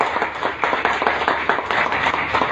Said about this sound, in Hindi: मैं चाहूंगा एक बार जोरदार ताली